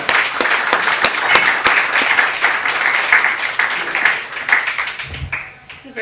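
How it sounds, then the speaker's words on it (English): An audience at a healthcare talk claps loudly and steadily for several seconds, the applause tapering off near the end as a voice begins to speak. "let's give her a big round of applause"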